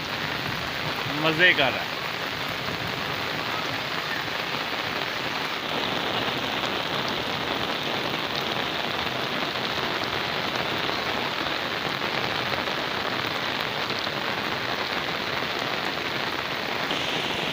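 Steady rain pours down on open farm fields in a heavy, continuous hiss, with a brief voice speaking near the start over the downpour.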